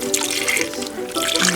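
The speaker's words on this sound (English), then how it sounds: "I'm just gonna pour that over the chicken." Chicken broth seasoned with garlic and onion powder is poured over chicken in a crock pot, producing a steady, close liquid splashing and trickling that continues with a brief dip midway.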